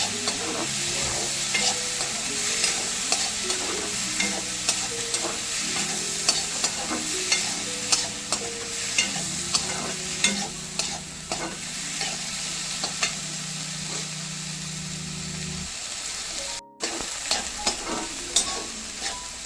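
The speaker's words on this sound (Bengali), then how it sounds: "এই ভুট্টার দানাটা এটা বয়েল করা এটা দিয়ে দিলাম টমেটো এটাকে ভালো করে নেড়ে ছেড়ে নেবো" Boiled corn kernels and chopped tomato stirred in a hot pan, a loud close sizzle with constant scraping and clattering of a spatula, stirring strokes repeating busily, and a brief cut-out toward the end.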